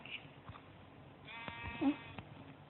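A sheep bleating in a game setting, one brief, fairly faint bleat rising over a steady low background murmur near the end.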